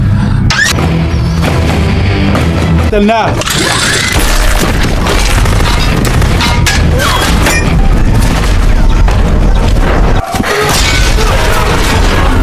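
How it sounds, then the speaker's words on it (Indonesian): Missile explosion from an action film, with loud continuous booming blasts, crashes and debris rumble filling the whole stretch, briefly dipping near the end before the roar resumes. "Kemudian Plontos pun tertembak rudal Tony."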